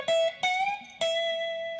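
A blues guitar plays a short minor pentatonic lick: three clear picked notes, the later ones bent and sustained, ringing alone up close.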